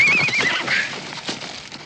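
Horse whinnying close by in a period frontier drama, one loud, shrill, wavering neigh that fades quickly, followed by soft hoof clops and snorts.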